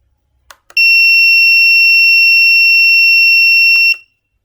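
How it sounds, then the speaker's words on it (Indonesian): Electronic buzzer switched on through a control interface, giving one loud, steady high-pitched tone that lasts about three seconds, preceded and followed by faint clicks. "pada saat kita meng-on-kannya terdapat bunyi beep, yaitu berarti buzzer yang tadi diinput melalui GUI"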